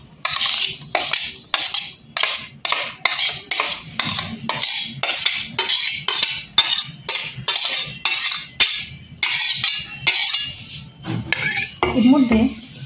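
Chopped tomato, capsicum, onion and a little cabbage are tipped into a bowl for Bengali-style chicken tacos, making a long run of quick, bright clattering scrapes and taps of a utensil against the bowl, close and fairly loud.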